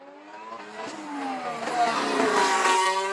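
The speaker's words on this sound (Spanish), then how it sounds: "Te hablaré a detalle de su poderoso V8, vamos a escuchar cómo suena" Chevrolet Camaro SS with a 6.2-litre V8 revving up, its engine note climbing in pitch and swelling louder over about three seconds, close and with no talk.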